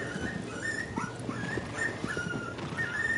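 A dog whimpers and whines in repeated short, high, nasal cries over a steady background hiss, fairly close and moderately quiet, with no talking.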